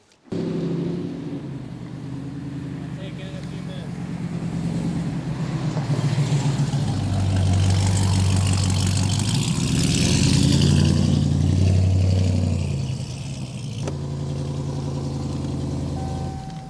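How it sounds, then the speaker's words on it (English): A 1,000-horsepower RAM TRX pickup truck cranks and fires up, settles into a deep, rumbling idle, then swells through loud, sustained revs before easing back to idle, close and without talk. "You can get in the truck right now, start it up"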